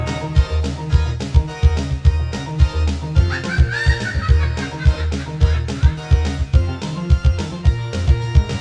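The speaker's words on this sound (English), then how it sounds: "Then the boss battle theme sounds like this." Boss battle theme music from the Gex video game pounds with a driving, evenly pulsing bass and drum beat, dense synth layers and a brief high melodic line in the middle, with no voices.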